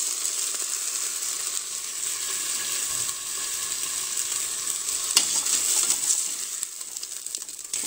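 Beef meatballs browning in a Cookeo multicooker give a loud, continuous close-up sizzle, with a sharp click partway through and no talk.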